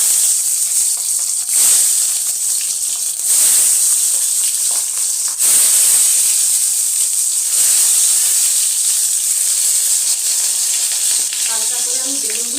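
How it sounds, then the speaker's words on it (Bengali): Eggplant slices fry in hot mustard oil in a kadai, giving a loud, continuous hissing sizzle that surges at moments, close to the microphone. "এর মধ্যে আমি বেগুনগুলো ভেজে নেব।"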